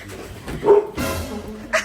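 A dog barks a few times at close range, short sharp yaps with a whimpery tone, amid some background noise.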